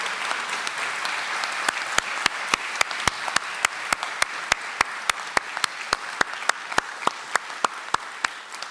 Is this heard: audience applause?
yes